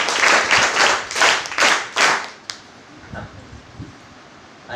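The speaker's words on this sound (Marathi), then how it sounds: "एका जोरदार टाळ्या" A school audience at a Sainik School motivational talk breaks into a loud burst of applause, sharp and dense at first, then fading out after about two and a half seconds into quiet room noise with faint scattered claps.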